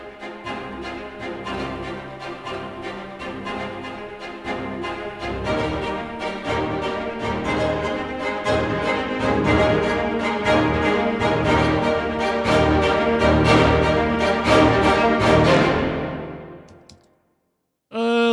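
Orchestral sample patch with violins playing sul ponticello spiccato and staccato trumpets, a dense rapid rhythmic pattern building in loudness, running steadily, then fading out before a brief burst at the end.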